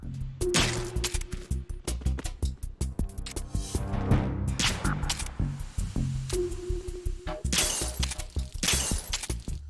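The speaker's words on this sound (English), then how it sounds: "Smashing up the food supply can be quite a good time as well." Food supplies being smashed in Metal Gear Solid 2, heard as a loud, dense run of crashing, shattering impacts with clattering debris, repeated in bursts across the clip with no talking.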